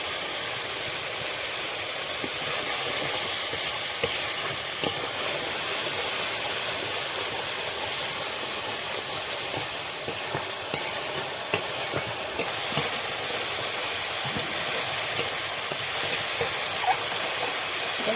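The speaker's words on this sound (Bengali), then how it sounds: "ভালো করে মশলাটাকে কষিয়ে নেব" Spice paste with tomato paste sizzling and frying steadily in a pan while being stirred for a paneer curry, a continuous close, loud hiss with occasional scraping clicks and no talk.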